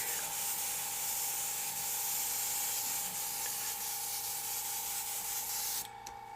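An airbrush sprays thin paint through a texture effects stencil held close to the surface, a steady airy hiss lasting several seconds before cutting off near the end.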